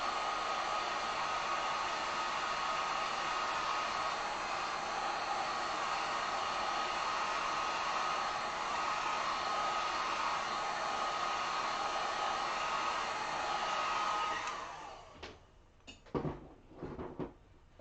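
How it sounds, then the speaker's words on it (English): A heat gun drying acrylic paint on a beginner's tulip umbrella sign blows a steady, close, even whoosh of air for about fourteen seconds, then cuts off, leaving a few faint clicks and handling knocks. "We're just going to hit this with the heat gun."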